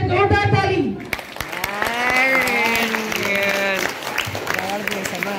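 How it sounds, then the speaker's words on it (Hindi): An audience at a spiritual music gathering claps loudly for about a second, then the applause cuts off and someone speaks over a faint background. "जोरदार ताली।"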